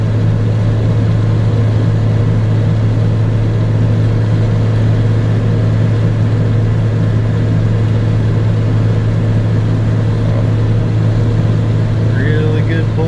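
A first-generation truck hauling scrap pulls hard uphill, its engine a loud, constant drone that holds unbroken from start to finish.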